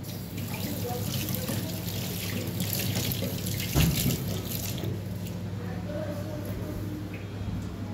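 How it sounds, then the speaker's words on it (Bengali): Hands being washed under a running kitchen tap during cooking, a steady close stream of water with splashing that stays constant throughout. "হাতটা ধুয়ে নিই।"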